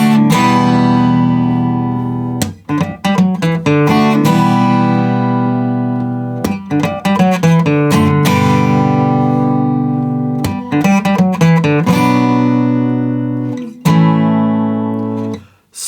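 Guitar plays the intro riff of a song with an added funky bass line: a close, loud run of plucked notes and chords in a steady rhythm, with no voices.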